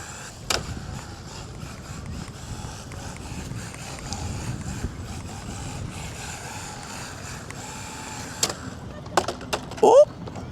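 A brushless 1/14-scale RC rally car drives over rough ground, its faint motor whirring beneath gravelly rumble and scattered knocks, with a sharper burst of clatter near the end as it hits little jumps.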